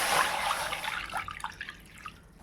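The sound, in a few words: water being poured into a kadai pan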